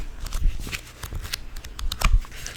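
Close, crisp rustles and flips of glossy Southern Living magazine pages being turned one after another, with no talking.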